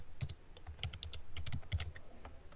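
Keys clack on a computer keyboard in short irregular clusters of close, crisp taps, with brief pauses between bursts and no voices.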